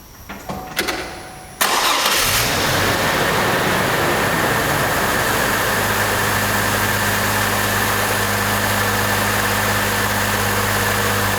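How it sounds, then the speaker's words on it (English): A Chevrolet Trailblazer, just repaired after a misfire, cranks briefly, fires up loudly, and settles into a steady, even idle that holds for several seconds with no talking. "It's now time for me to start the car, and we're gonna see how this car runs."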